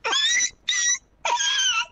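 A dog gives three drawn-out, high whining cries with short pauses between them, close and fairly loud, with no talking over them.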